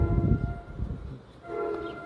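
A small ride-on train rumbles close by at an outdoor feast, with tonal horn-like notes rising toward the end over the low mechanical roar.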